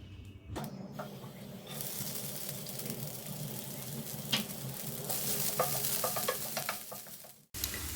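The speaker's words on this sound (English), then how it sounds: "In the same pan, add another teaspoon of oil and add the chopped ginger and garlic." Chopped ginger and garlic frying in oil in a pan, a steady close sizzle that builds after a brief start, with scattered utensil stirs and clicks, ending in a short drop before the sizzle resumes.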